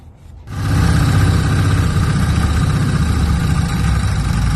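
A CFMOTO Z-Force 950 side-by-side in a big bore build, fitted with a Varco race clutch, fires up after a quiet moment and settles into a loud, steady, close engine drone that holds without pause.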